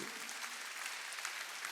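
Applause from a church congregation at a Sunday worship service, a brief steady wash of clapping held at an even level from start to finish with no voices over it.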